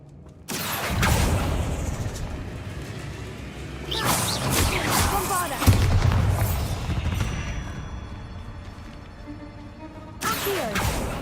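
Bombarda blasting spell going off in the Hogwarts Legacy video game, a loud booming explosion with crashing debris and whooshes, followed by a second burst and a rumbling tail, then a fresh blast near the end.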